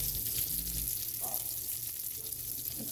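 Bacon-wrapped meatloaf patties fry in a greasy pan, giving a steady close sizzle with faint crackles throughout and no voices.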